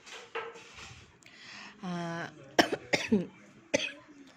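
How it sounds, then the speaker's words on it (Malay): A few close, sharp coughs break out in short bursts, mixed with throat-clearing and a brief voiced sound. "Batuk pula"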